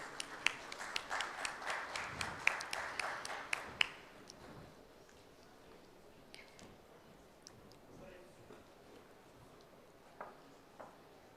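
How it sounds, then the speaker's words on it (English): Audience at a conference workshop gives a short round of applause, sparse rhythmic claps for about four seconds that then fade into quiet room noise with a few faint taps. "A round of applause from the audience"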